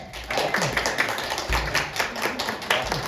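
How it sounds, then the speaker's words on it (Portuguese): An audience at a monthly gratitude service applauds, steady rhythmic clapping from a modest group with some sharp individual taps, fairly close and without speech. "vamos fazer uma salva de palmas para o Kitajima-san"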